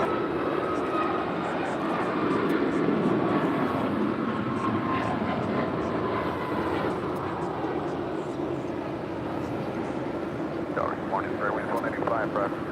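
Alaska Airlines jet taking off at LAX runway 25 right: a loud, sustained engine roar with broadband rumble, overlaid by radio chatter from the tower and pilot.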